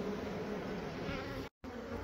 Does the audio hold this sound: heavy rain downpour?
no